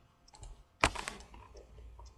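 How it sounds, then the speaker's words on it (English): A computer mouse button clicks once sharply and close, with a few fainter soft clicks scattered around it in a quiet room. "Click on this icon so that you can go back to the texture and click on just reload."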